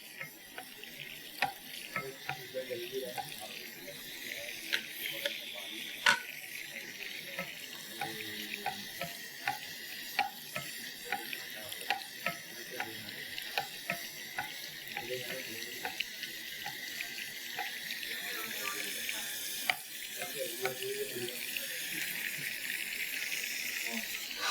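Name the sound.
water running over from a pressure cooker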